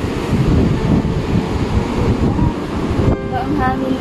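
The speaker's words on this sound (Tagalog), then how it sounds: "Ito ang hangin dito." Strong wind buffets the microphone on a beach at Bolinao, Pangasinan, a loud continuous rushing roar with surf mixed in and a brief voice-like sound near the end.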